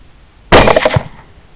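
A single sharp rifle report from a follow-up shot at a hog with Remington Core-Lokt 120 gr ammunition, loud and sudden, with a short echoing tail that fades within about half a second.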